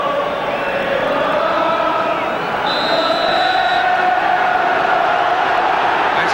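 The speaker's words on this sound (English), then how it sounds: "Usual tremendous atmosphere of a derby match." A packed stadium crowd at a 1975 Manchester City v Manchester United League Cup derby roars in a dense, continuous wash of noise, with a brief whistle-like tone partway through.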